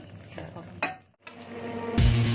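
Pickled bamboo shoots stirred in a pot with a little water, close metallic scrapes and clanks of a utensil against the pot with a soft sizzle, one sharper knock near the end.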